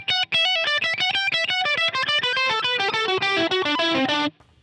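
Electric guitar with heavy overdrive playing a fast lead line, dense distorted notes descending in a steady run, loud and close, ending abruptly.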